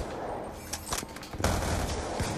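Gunfire from Black Ops 2, with a few sharp shots cracking over a dense, steady game soundscape.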